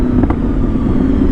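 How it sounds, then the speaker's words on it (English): A Honda VFR 800 sport-touring motorcycle's V4 four-cylinder engine runs with a smooth, loud, even hum, holding a steady tone with a brief blip of revs early on. "Now this V4 4-cylinder, like I said, same engine that they ended up putting in the Honda Magna, and it's got a very smooth delivery."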